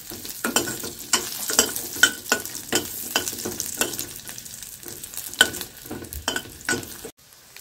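Tamarind, garlic and ginger sauté in a pan for chutney, giving a steady sizzle broken by repeated scraping stirs of a spoon against the pan, close and fairly loud, with no talking.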